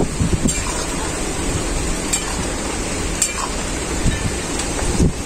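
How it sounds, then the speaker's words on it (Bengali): Heavy rain and strong wind during a dark storm, a steady broadband roar of rainfall and gusts with occasional brief louder spatters, continuous and fairly close throughout with no talk. "বৃষ্টি পড়াও আরম্ভ করে দিয়েছে আর প্রচুর জোরে বাতাস দেওয়াও আরম্ভ হয়ে গেছে"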